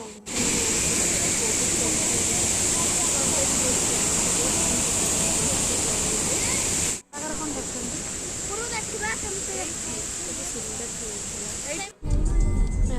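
Waterfall swollen after heavy rain roars as a loud, steady hiss of falling water, close and continuous, with voices talking over it before it cuts briefly and resumes.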